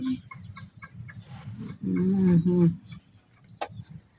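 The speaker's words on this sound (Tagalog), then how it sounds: "Yung mga alaga kong mga manok mga kabiday" Pet chickens kept at home make soft, low clucks and a short throaty burst of cooing calls near the middle, close by and alone, with a sharp knock near the end.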